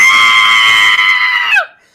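A human voice imitates a monster's shrill, sustained screech during a tabletop horror game set in a haunted mine, loud and harmonic for about a second and a half before sliding down and cutting off abruptly.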